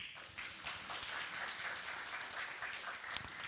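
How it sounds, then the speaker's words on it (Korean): Lecture audience applause at a special talk on AI and law, a steady, fairly distant patter of many hands clapping together, sustained evenly and fairly faint with no speech over it. "그렇게 하신다면 박수를 부탁드립니다"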